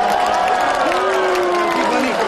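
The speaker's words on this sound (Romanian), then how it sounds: "Puteți să-l aplaudați, da?" A festival crowd at the Eternul Maramureș medieval festival in Sighetu Marmației applauds the mayor, a dense continuous wash of clapping and cheering, loud and close, with a voice carrying over it.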